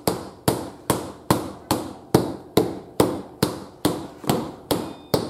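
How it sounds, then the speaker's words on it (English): A small rubber hammer taps around a motorcycle tyre on an Africa Twin CRF1000 to break the bead, giving twelve evenly spaced, sharp thudding knocks about half a second apart, close and loud with no speech. "I'm using that little rubber hammer"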